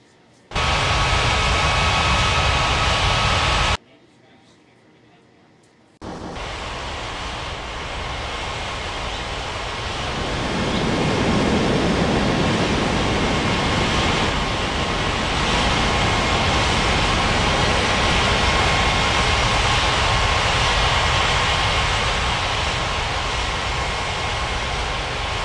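Jet airliner engines from the Unmatched Air Traffic Control game at Ngurah Rai Bali International, a steady loud roar that drops out briefly, then returns and swells into a broader rumble with radio chatter over it.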